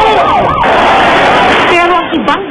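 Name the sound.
ambulance siren at the Black Nazarene procession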